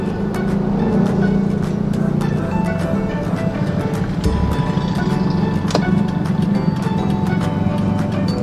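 A car drives up to a shop and parks, with a steady close engine drone and road rumble running throughout.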